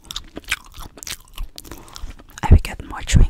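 Pink watermelon bubble gum is chewed close to the mic, with wet smacking, sticky squelches and a few louder crunchy bites in an uneven rhythm.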